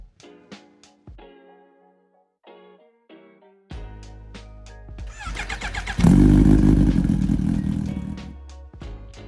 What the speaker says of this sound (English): The Suzuki DR-Z4SM Crush